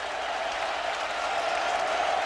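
Stadium crowd at a 2008 Notre Dame versus Michigan State football game, a continuous dense roar of cheering and applause filling the space, steady and loud with no break.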